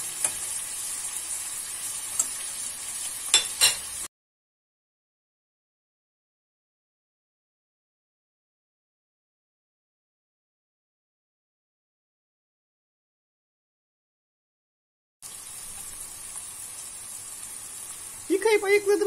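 Pepper paste sizzling as it is sautéed in a pan for a Turkish cauliflower and minced meat dish, a steady hiss of frying with stirring heard at the start and again near the end after a long silent gap.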